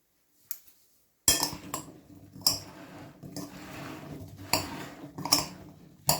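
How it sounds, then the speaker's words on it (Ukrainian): Utensil scraping and clinking against a bowl in repeated bursts as chopped zucchini with salt and pepper is mixed, close and moderately loud with brief pauses. "Додаю ще перець. І все це перемішую."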